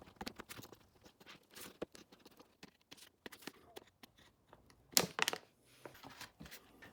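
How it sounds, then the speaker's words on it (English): Metal shears cut a hole in a sand blasting cabinet's cyclone lid, giving crisp irregular snips and crunches at close range with a louder cluster of cuts midway, between quiet pauses. "now I'm marking the hole and using shears to cut it out"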